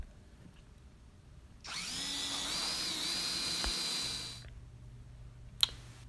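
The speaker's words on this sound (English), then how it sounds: "All you have to do is slide the screw down into the recessed hole and tighten." Power drill driving pocket hole screws into the underside of a plank-style table top, one steady whirring run of about three seconds that rises as the screw seats, then stops, followed by a single sharp tap.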